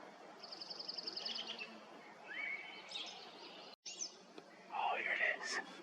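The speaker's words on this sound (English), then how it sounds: "American robin." Outdoor birdsong near the Tetons with repeated chirps and whistled phrases, including a rich American robin song near the end, over faint background hum and a brief cut.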